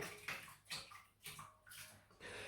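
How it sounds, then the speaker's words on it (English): A Big Jock synthetic shaving brush with a 30mm knot swished in a basin of water, quiet repeated splashing and sloshing strokes close by, no talk. "So I'll just wet that in the water here."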